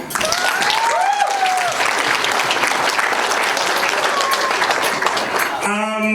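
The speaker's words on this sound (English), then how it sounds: "Round of applause." Wedding reception guests at a function center applaud the official welcome of the couple, a loud, dense burst of clapping with scattered whoops and cheers sustained throughout, ending in a brief tonal sound.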